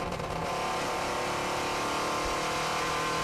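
A pre-war race car at a vintage sports car hillclimb, its engine droning steadily at speed and sounding slightly rattly, running continuously and fairly close throughout.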